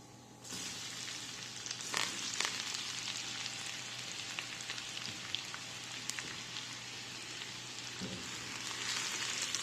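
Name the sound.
garlic and cumin frying in hot oil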